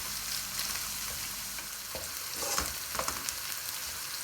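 Onions fried in a karahi until light pink give a steady, close sizzle with occasional scrapes and clicks of a stirring spoon, and no talk.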